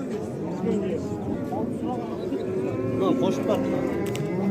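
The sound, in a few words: cow with calf mooing at a livestock market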